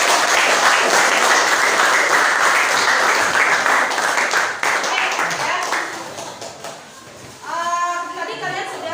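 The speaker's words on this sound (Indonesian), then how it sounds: "Beri aplaus dulu untuk" A classroom group claps loudly after a presentation, with dense sustained applause that fades over several seconds before a teacher's voice takes over.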